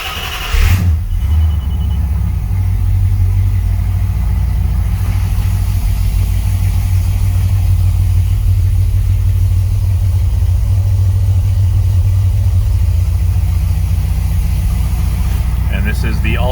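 A 1968 Dodge Charger with a rebuilt 440 V8 and FiTech fuel injection, started cold and left idling: a low, steady engine rumble that holds at a constant level for the whole stretch with no voices over it.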